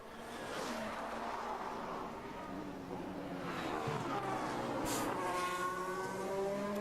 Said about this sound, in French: on attend qu'une voiture arrive. Voilà, on voit une qui rentre dans le virage 10